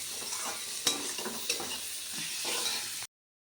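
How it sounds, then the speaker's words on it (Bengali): Spice paste with water being sautéed in a pan for an egg curry, giving a steady close sizzle and bubbling broken by a few sharp spoon scrapes, then a sudden cut to silence near the end. "একটু জল দেবো জল দিয়ে কষালে না মশলাটা একদম গলেও যাবে ভালো হবে"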